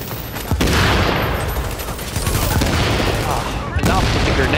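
Video game battle with gunfire and grenade explosions: dense, loud volleys of shots and blasts run continuously throughout, with sharper bursts standing out near the start and end.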